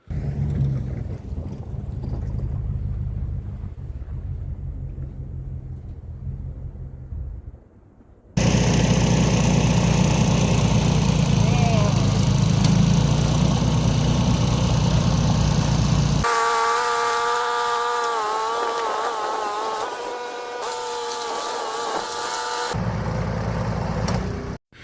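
A 5 horsepower snowblower engine fitted with an impeller kit runs steadily and loud from start to finish, its drone shifting in pitch and intensity partway through as the load changes.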